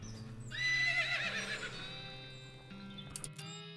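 A horse in the West of Loathing video game gives a long, shrill whinny, then soft hoof clip-clops follow over a low, steady musical drone.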